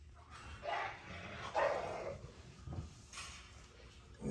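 Dogs barking in kennels during cleaning, a few scattered barks and yips at moderate distance, fairly faint, with no talk.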